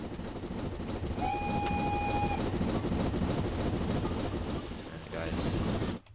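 An LMS 4F steam locomotive from Train Sim World rolls past near Cromford on the Matlock to Ambergate route, a rumbling, rhythmic clatter of wagons with a brief whistle tone, fading abruptly at the end.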